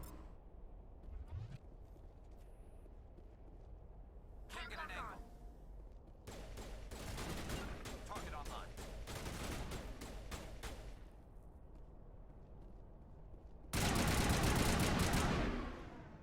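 Shotgun blasts and other weapon fire in Mass Effect Legendary Edition come in scattered bursts across quieter stretches, building to a loud burst of fire near the end, with a voice speaking in between.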